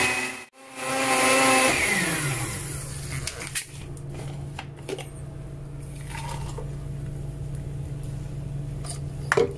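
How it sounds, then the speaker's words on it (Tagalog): A blender whirs loudly as it froths bulletproof coffee, running for about two seconds at full speed before winding down into a low, lingering motor hum with faint clatter. "Then just blend it for 10 seconds."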